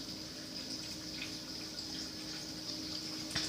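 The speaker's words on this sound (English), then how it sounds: "you're going to drain the pea juice" Faint trickle of pea juice being drained from a can of peas, a soft continuous water-like pour with a small splash near the end, quiet and close.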